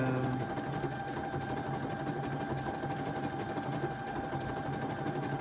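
A sewing machine runs steadily, stitching a decorative star stitch on fabric woven from Liberty of London textile scraps. The rapid, even mechanical whir continues alone from start to finish.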